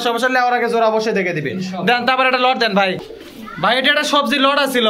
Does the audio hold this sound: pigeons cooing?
yes